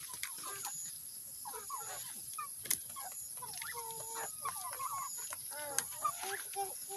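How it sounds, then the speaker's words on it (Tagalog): Several chickens cluck and chatter softly nearby, short irregular calls overlapping, with a couple of sharp clicks and a faint high hiss behind them. "Lorenzo, papasok yung manok!"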